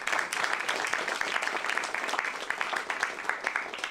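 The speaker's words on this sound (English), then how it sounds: "So let's give them a round of applause." An audience at a business forum claps for the speakers in a short, steady round of applause, moderately loud, with no talking over it.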